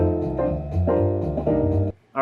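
Jazz rhythm-changes backing track playing from an app: bright, close chord stabs in a bouncy swung pattern for about two seconds, then cut off abruptly.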